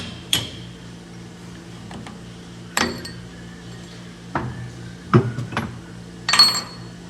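Several sharp metallic taps from a piece of brass knocking a drill bit free ring out at irregular intervals, each a bright clink against faint background hum, with a quick double tap near the end.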